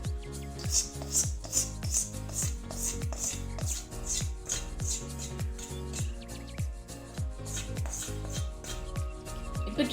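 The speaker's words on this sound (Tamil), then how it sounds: "இப்போ நம்ம இது ஊறுகாயில சேர்த்து கலந்து விட்டுக்கலாம்" Warm oil is worked through lemon pickle with a spoon in a bowl, making a rapid, regular series of close, wet scraping strokes and light knocks that continue steadily throughout, with no talking.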